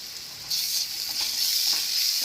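Onions frying with ginger garlic paste for a chicken chana dal curry, a steady close hiss of sizzling oil that swells louder after half a second and keeps going without pause, no voices over it.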